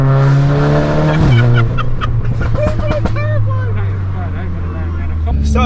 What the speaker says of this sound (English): finally driving John's 490 horsepower Golf R tuned by MRC Tuning